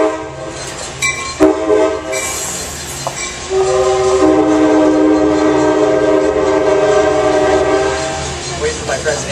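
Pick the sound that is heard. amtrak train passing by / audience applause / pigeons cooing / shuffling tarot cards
amtrak train passing by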